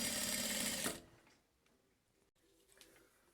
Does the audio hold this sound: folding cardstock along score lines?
no